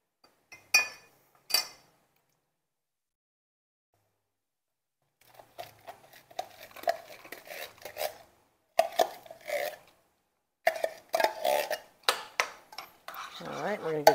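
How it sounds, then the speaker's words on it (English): Corn casserole mixture being stirred in a dish, a series of scraping, clinking utensil strokes against the dish in irregular bursts, with a couple of isolated clinks before a pause. "we're going to give that a little stir"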